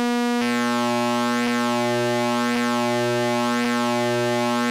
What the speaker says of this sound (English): if you're holding a note and you increase the modulation between those two shapes